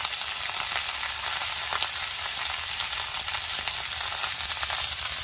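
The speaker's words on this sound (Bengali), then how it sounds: "এখন ভালো করে নেড়ে চেড়ে সবজিটাকে ভেজে নেব" Fresh garden vegetables with green chillies, turmeric and salt fry loudly in a pan, a dense continuous sizzle with soft stirring scrapes mixed in, close up and without speech.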